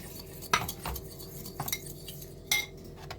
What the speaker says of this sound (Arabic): هحطه كده في البوله وهنزل عليه بالخل وهضربهم كده ببعض